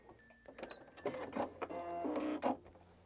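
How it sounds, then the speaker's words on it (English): A sewing machine backstitches a few reinforcing stitches at the seam line of a lapped zip, heard as short, close mechanical whirring bursts separated by brief pauses. "do a couple of backward stitches"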